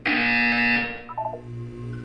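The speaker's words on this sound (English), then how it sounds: "You will hear a buzzer." A loud, harsh electronic buzzer in the video game Portal 2 sounds for about a second, then cuts off, leaving a low hum and faint tones.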